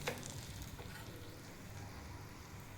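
Okra cooking in a pan, a soft continuous sizzle and crackle of frying with faint stirring, low and steady throughout.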